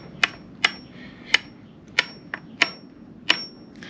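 A hammer drives a pin into a BMW E46 M3 transmission in sharp metallic strikes, seven clear taps at an irregular, unhurried pace, close and alone.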